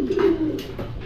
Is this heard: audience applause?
no